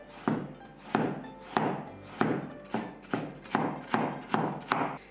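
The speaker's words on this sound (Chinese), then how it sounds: "准备一根胡萝卜，先切成片儿，" A kitchen knife chops a carrot into thin strips on a cutting board. About nine crisp thuds fall at a steady, even pace, close and clear.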